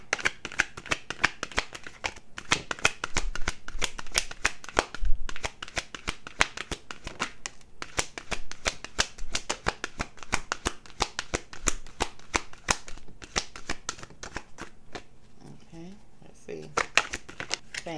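Tarot cards shuffled by hand in a long run of rapid, dense riffling flutters, close and fairly loud, with brief pauses between bursts and softer shuffling near the end.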